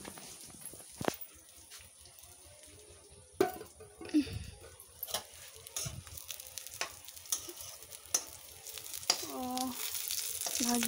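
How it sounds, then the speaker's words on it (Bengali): Curry (torkari) frying in a pan on a gas stove turned low, a soft steady sizzle with occasional scrapes and clinks, faint and close, with no talking. "বাদামি কালারের হয়ে গেছে, মানে ভাজা ভাজা হয়ে গেছে।"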